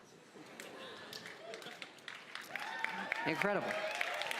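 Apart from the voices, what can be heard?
audience applause at Bethesda E3 2018 presentation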